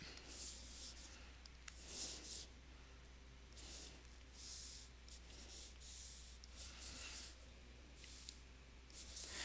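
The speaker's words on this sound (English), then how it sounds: "let me draw that again so I can write all over it" A marker or pen scratches and rubs across a surface while someone draws and writes on a trigonometry angle diagram, faint and close, in uneven strokes and short squeaky bursts, with no talking.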